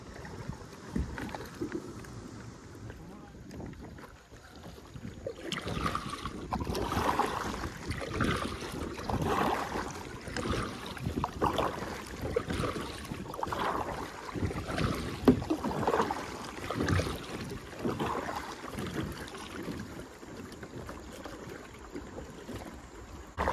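Punting paddle strokes on Lake Erie splash and swish through water in a steady rhythm, close by, with wind buffeting the microphone throughout.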